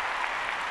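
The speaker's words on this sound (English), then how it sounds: "Can we have a round of applause?" Audience applause at a live golf show recording, a dense, steady wash of clapping that holds evenly throughout the short stretch with no voices over it.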